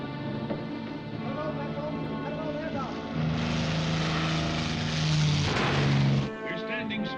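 A propeller aircraft drones across a 1956 naval war film soundtrack, a steady engine roar that swells louder toward the end, with a sustained musical tone and battle effects mixed in.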